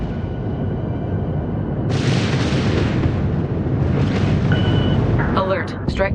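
Kinetic weapon fire strikes a ship in the space strategy game Homeworld 3, a dense rumbling barrage of impacts that swells midway and keeps roaring under layered game effects, with a short electronic alert tone near the end.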